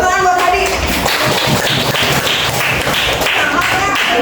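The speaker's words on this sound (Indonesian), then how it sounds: "Tepuk tangan buat tadi." A school classroom of students breaks into steady hand clapping during a science lesson, a dense, even patter of many palms close by that continues throughout without a pause.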